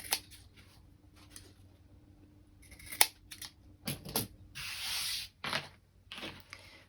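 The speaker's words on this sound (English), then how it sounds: "I'm just going to trim down these corners" Scissors snip in short, crisp bursts as they trim the corners of a sewn fabric pocket, with quiet handling and rustling of the cloth between cuts, close and fairly faint.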